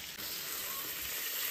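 Rice-field fish fry in a pan over a wood-fired earthen stove, giving off a steady, close sizzle and bright hiss with no pause.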